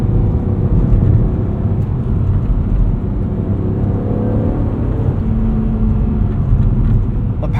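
A 2008 BMW Z4 M Coupe with its stock S54 engine drives steadily, giving a loud, continuous low rumble and whir from inside the cabin, with no one speaking.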